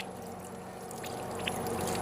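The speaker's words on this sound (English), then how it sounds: "let me just wash my hands so I don't mess up the phone also" Tap water running steadily while hands are washed after spray painting with water-based paint, a constant close splashing pour without pauses.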